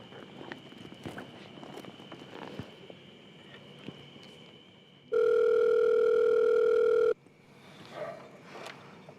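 Telephone ringback tone from an unanswered call, a single long steady electronic tone lasting about two seconds, loud and clear against quiet room noise, with faint footsteps before and after.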